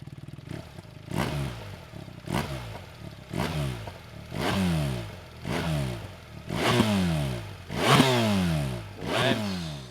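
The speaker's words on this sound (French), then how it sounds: "c'est le classique ronronnement du boxeur BMW" A BMW R 1300 boxer motorcycle engine runs nearby in repeated rising revs, each a throaty, rumbling surge that falls away before the next, steady and fairly loud with no talking.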